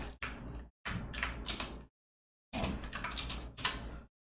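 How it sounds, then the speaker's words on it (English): Bursts of rapid clacking keystrokes on a computer keyboard with noise-cancelling tiles nearby, loud and close, in three uneven runs separated by short silent pauses. "I'm trying to use my keyboard underneath my noise canceling tiles."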